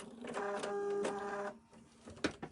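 Sewing machine stitching across a fabric pincushion, a short buzzing whir of the motor for about a second and a half, then a few light clicks as it stops, close and quiet.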